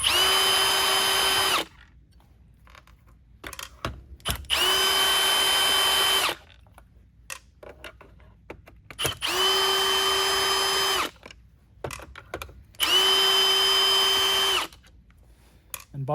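A power drill backs screws out of a Shark IonFlex power nozzle during a teardown, running in four sustained whirring bursts of about two seconds each, separated by quiet pauses with small handling clicks.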